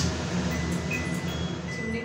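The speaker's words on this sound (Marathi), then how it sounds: "चिमणी करतो ते आवाज येतो." A kitchen chimney exhaust hood runs with a steady, loud broadband whoosh and a low motor hum, continuous throughout with no talk.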